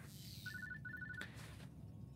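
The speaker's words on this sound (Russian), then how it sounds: "Джесси Делапен нам звонит, нифига." An in-game phone in the video game Song of Farca rings in two short electronic bursts, faint and clear over a low background hum.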